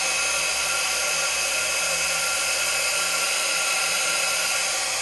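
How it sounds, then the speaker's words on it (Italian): An embossing heat gun blows hot air in a steady, loud, unbroken whoosh, drying a lamé-thread filigree jewellery piece at close range with no one talking. "col phon da embosser, embossing, faccio aria calda, quindi calore"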